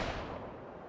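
A single sharp gunshot from the pirate video game Caribbean Legend: Age of Pirates, a loud, dense burst at the very start that thins into a short fading tail.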